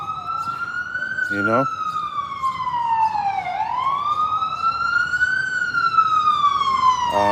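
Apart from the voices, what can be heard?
emergency vehicle sirens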